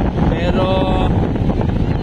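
Powerful wind roars across a beach by the sea, a loud, constant buffeting rumble on the microphone, with a voice speaking briefly beneath it.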